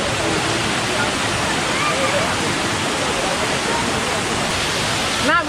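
Kuang Si waterfall in Laos rushes with a steady, close, full-bodied roar of falling water that holds unbroken throughout.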